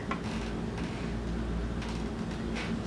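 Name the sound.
sewing machine stitching a vinyl handbag side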